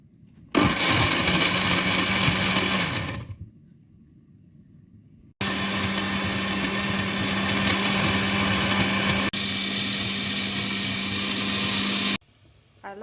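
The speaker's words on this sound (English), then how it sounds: "I allowed it to blend really well so that I wouldn't have to filter" A blender runs loud and steady, whirring up Ghanaian nkrakra pepper soup ingredients in two long bursts with a short quiet gap between them, then cuts off near the end.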